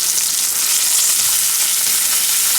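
Salmon pan frying in hot oil, a loud continuous hiss and crackle of sizzling fat, close and steady without pause, no speech.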